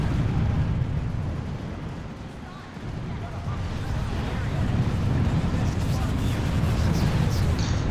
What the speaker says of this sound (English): A lot of smoke and a lot of explosions and stuff going on.